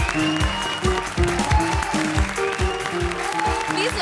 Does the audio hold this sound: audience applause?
yes